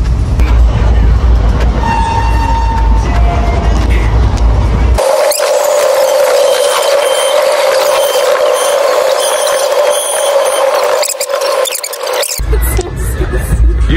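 Indian local train from Gujarat toward Kerala running along, a steady loud rumble with rattling and a brief squeal-like tone, interior noise throughout.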